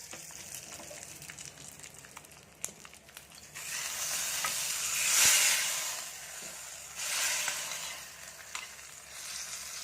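Hot tempering is poured into radish chutney and mixed: quiet stirring at first, then a sudden loud hissing sizzle that swells, fades and flares briefly again.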